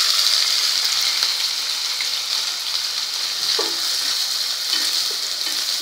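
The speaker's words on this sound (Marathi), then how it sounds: "आता आपल्याला घालून घ्यायचा आहे पातीचा कांदा." Chopped spring onion frying in hot oil with cumin, a loud, steady, bright sizzle with a few light stirring clicks and no talking.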